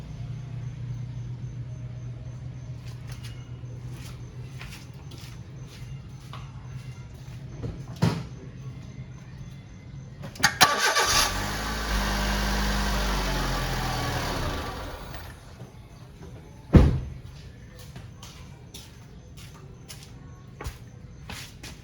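A steady low hum rises from underneath a 2004 Honda Civic driving at about 60 km/h. Light clicks and knocks come through the cabin, and a loud rushing surge swells for several seconds midway before the hum settles again.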